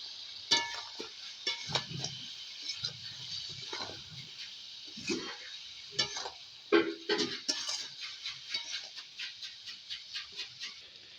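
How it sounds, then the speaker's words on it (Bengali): Onion and garlic sautéing without spices in a pan for a mutton curry: a steady close sizzle with scattered stirring scrapes and clicks throughout, no voices. "কোনো মশলাই ছাড়াই কষিয়ে নিচ্ছি পেঁয়াজ আর রসুন"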